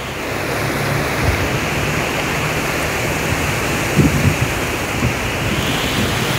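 Swollen river after floods rushing steadily, a broad continuous roar of flowing water with some wind buffeting the microphone, no talk.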